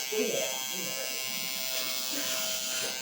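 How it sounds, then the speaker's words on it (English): An electric shaver buzzes steadily and close up during a hair transplant session, a constant drone running the whole time with people talking over it. "Ooh, this is a good, a good shaver, Joe."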